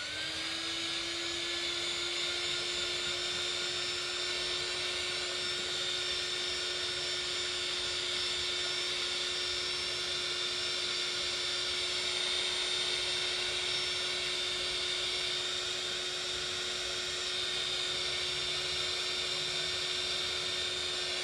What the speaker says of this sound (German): Und das Ganze föhne ich wieder trocken.